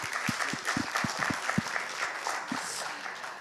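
Audience at a technical conference on water management for local authorities in Corsica gives a short, fairly light round of applause, with scattered distinct hand claps over a soft crowd wash.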